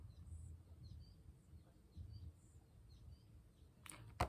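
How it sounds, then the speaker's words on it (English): Small birds chirp outdoors in short, faint, scattered calls over a low background rumble, with a brief louder knock at the very end. "Can you hear the birds?"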